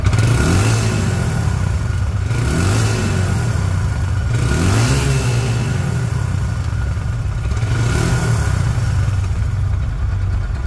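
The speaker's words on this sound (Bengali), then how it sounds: "তো গাড়িটির সাউন্ড শুনুন, গাড়িটির সাউন্ড শুনলে বুঝতে পারবেন ইঞ্জিন কোয়ালিটি কেমন।" A 2022 Hero Ignitor motorcycle engine runs loud and close, throbbing steadily with a few swelling revs rising and falling over the idle, with no voices.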